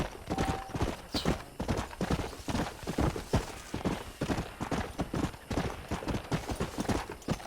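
Horse hooves clip-clop steadily in Red Dead Redemption, a quick, even rhythm of hoofbeats close by and fairly loud, with a faint neigh now and then and no talking.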